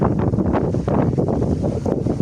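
Steady wind buffets the microphone with a constant low rumble and gusty roar, no other sounds standing out.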